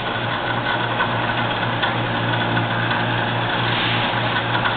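An ENCO 7x12 band saw with hydraulic down feed runs steadily, a constant machine hum and whir holding at an even level from start to finish with no talk.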